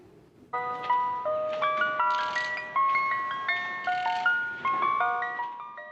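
A neighborhood ice cream truck plays its tinny, chiming music-box jingle, a bright repeating melody of clear bell-like notes sounding loud and steady over a low background hum, with no voices.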